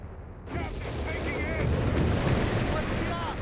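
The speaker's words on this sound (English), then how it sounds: "Oh, the Italian Howitzer is actually firing." Italian howitzer fire in Company of Heroes 3, a loud sustained rumbling boom with a sharp onset around half a second in, rolling on under battlefield noise and a commentator's voice.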